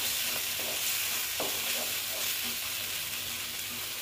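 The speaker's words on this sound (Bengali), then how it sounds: "এটাকে অল্প ভেজে নিচ্ছি। যেন কাঁচা গন্ধ না করে মশলার" Spices fry in a pan for paneer bharta, giving a steady soft sizzle and hiss with occasional light stirring scrapes. The sound stays quiet and close, with no talking.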